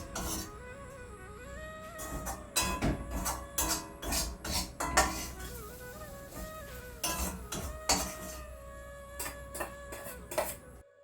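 Dried fish chutney being scraped out of a pan into a bowl, with a series of irregular metal clinks and scraping knocks of a utensil against cookware, close and moderately loud over a faint tonal background.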